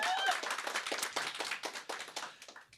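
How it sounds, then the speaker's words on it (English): Audience clapping at the Cystic Fibrosis Trust 60th anniversary awards ceremony, a moderately sized crowd giving brisk, distinct claps that gradually thin out, with faint voices underneath. "And a round of applause."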